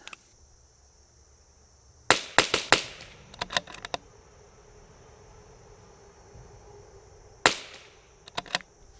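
A CZ 457 .22 rimfire rifle fitted with a Whidden Criterion barrel fires sharp, fairly light cracks at a range, in a quick cluster of several reports and then a few more later, with quiet pauses between and no talk.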